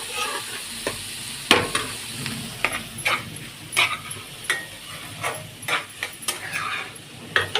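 Broad beans (chikkudu kaya) frying in a pan, with a steady close sizzle broken by irregular scraping and clacking as they are stirred, and no voices.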